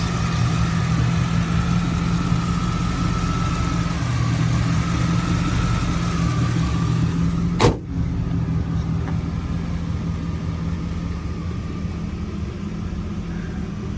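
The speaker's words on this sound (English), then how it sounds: "Best part, Tune Port 350. Got a cold air intake. Running great." A 1988 Pontiac Firebird Formula with a Tuned Port 350 V8 and a cold air intake idles steadily with a smooth low rumble, heard close. A single sharp click or knock lands midway, then the idle carries on alone.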